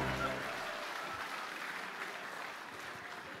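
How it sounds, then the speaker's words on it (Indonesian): Audience applause at an indoor gathering, a steady wash of clapping from many hands that slowly fades over a few seconds. "Tepuk tangan untuk kita semua."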